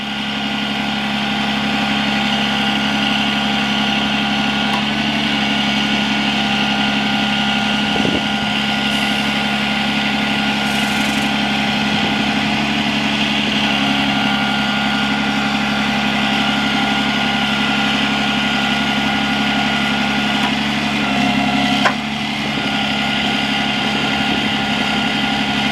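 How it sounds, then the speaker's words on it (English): A 2008 Freightliner Business Class M2 106 truck idles loudly and steadily with a constant engine drone as its winch lowers, faint mechanical clicks and whines surfacing now and then over the long continuous run. "There's your winch going down."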